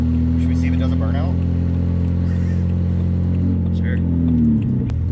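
Flood-repaired BMW engine, automatic transmission in limp mode, holds a steady loud idle-to-rev rumble through a failed burnout attempt, with a brief spoken word near the end.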